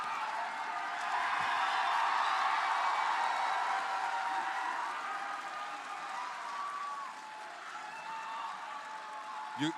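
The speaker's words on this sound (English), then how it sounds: "That crowd is losing it." Crowd at a live event cheering and applauding the Springtrap reveal for Dead by Daylight, a dense sustained wash of clapping and whoops that swells and then slowly eases.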